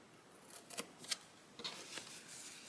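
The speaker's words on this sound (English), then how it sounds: "I'm going to use my scissors for that." A few quiet, crisp snips of scissors cutting, spaced irregularly against a faint, still background.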